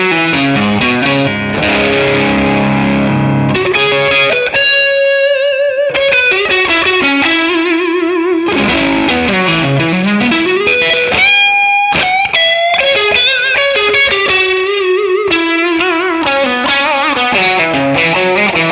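Electric guitar played through a Tonex overdrive pedal with reverb and delay, a sustained distorted melodic passage with ringing notes and echoing tails, loud and alone without talk.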